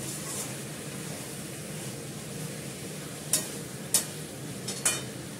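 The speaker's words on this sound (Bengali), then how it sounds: "এটা এখন কষতে থাকবে, অনেকক্ষণ হবে।" Food sautéing (kosha) in a pan, a steady soft sizzle and hiss at low volume with a few sharp clinks of a utensil against the pan near the end.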